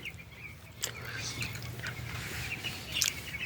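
Scattered high, thin cheeping from young broiler chicks over a low steady hum, several short peeps spread through the stretch.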